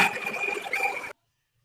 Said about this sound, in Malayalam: അപ്പോൾ കുറച്ച് വെള്ളം ഒഴിക്കുക